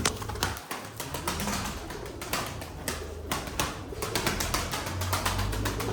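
Armenian breed tumbler pigeons flutter and shuffle close by, with bursts of wing flapping and soft cooing under a steady background rustle.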